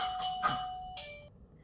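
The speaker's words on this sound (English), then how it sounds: "sorry, my dog's doorbell" A short electronic chime plays a few tones in quick succession, like a doorbell melody, fairly faint and close.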